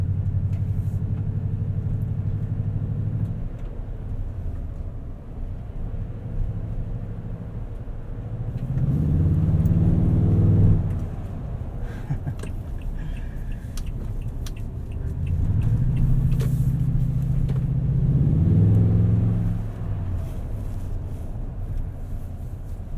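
A 2020 Toyota Tundra TRD Pro CrewMax pickup with a 5.7L V8 drives along with a low, steady engine rumble, swelling twice into longer revving surges before settling back, with no talking.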